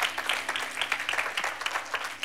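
An audience at a French worship gathering gives dense, continuous applause for the event organisers, many hands clapping close and steadily throughout.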